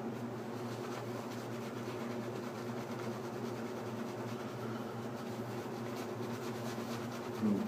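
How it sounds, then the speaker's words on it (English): An electric fan drones in a warm room, a steady low hum with a faint buzzing edge that stays constant in the background throughout, with no speech. "If you all hear buzzing in the background, that's my fan."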